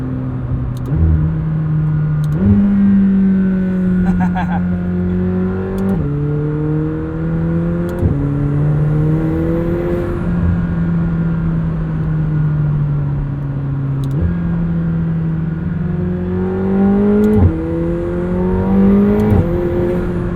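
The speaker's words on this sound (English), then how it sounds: "the turbo whistle, the exotic sounds that it does make, the little pops" A 2021 McLaren 720S coupe's turbo V8 revs up through several gear changes, rising whine then dropping, heard continuously from inside or close by, with faint turbo whistle.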